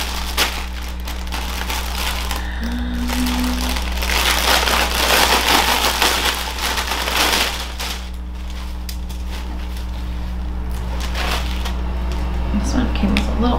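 Plastic packaging bags around swimwear are opened and handled close up, giving busy crinkling and rustling bursts that swell and fade over several seconds, with a voice talking throughout.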